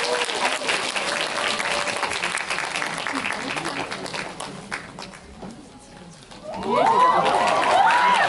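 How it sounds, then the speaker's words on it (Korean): An audience at a film premiere stage greeting applauds as the director and actors come out, a loud, dense crowd clap that dips briefly midway, then swells back with cheering and excited voices. "박수 부탁드리겠습니다"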